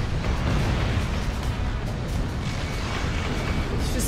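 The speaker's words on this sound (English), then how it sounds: "It's just explosions everywhere" Explosions in the aerial combat video game Ace Combat Infinity, a heavy, continuous rumbling barrage of booms and bursts, loud and dense with no clear gaps.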